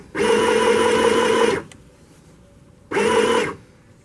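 Sewing machine stitching a sleeve, running in two loud close bursts: a long steady whir of about one and a half seconds, a pause, then a shorter run.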